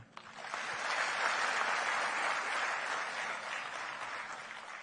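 Applause at a public function in Gujarat for a district collector's birthday: a large audience claps in a dense, sustained wash that swells quickly and holds steady throughout, with no talk over it.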